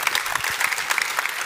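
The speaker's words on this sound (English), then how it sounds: "I think we can give a second round of applause because this was really inspiring." Audience applause following an astronomy panel presentation on cosmic origins and life on other planets: dense, steady clapping from a hall crowd across the whole span, moderately loud and without pauses.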